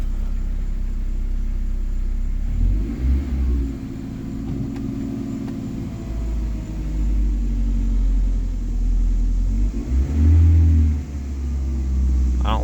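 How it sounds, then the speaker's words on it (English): A car engine with a faulty starter circuit idles and is revved in several swells, a close, loud low rumble rising and falling with a noticeably delayed throttle response. "I haven't tried revving this thing yet."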